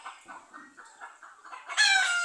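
Chickens kept indoors cluck in soft, close bursts, then a rooster breaks into a loud, sustained crow near the end. No one speaks.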